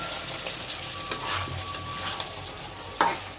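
Spiced meat being stir-fried in a pan during home Bengali cooking, a steady soft sizzle with a few sharp scraping strokes of the stirring spoon, close by and with no talk.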